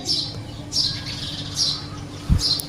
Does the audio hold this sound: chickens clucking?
no